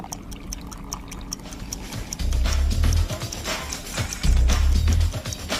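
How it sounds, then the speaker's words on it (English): Water is poured into the top cup of a homemade water clock, two bursts of filling around a second each, over a background of faint repeated ticking from a stopwatch. "Now you fill the top cup with water and you start a stopwatch at the same time."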